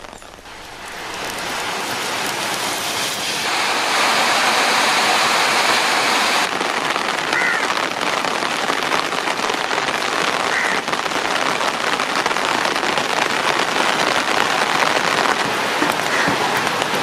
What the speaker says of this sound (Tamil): கொடைக்கானல் மலைப்பகுதியில் சுமார் அரை மணி நேரம் மழை பெய்தது.